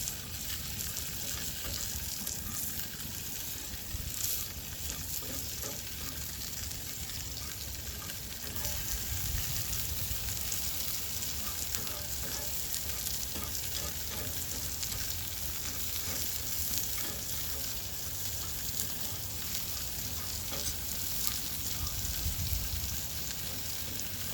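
Eggs fry on a grill with a continuous close sizzle and crackle, a steady spitting hiss throughout with small pops and no voices.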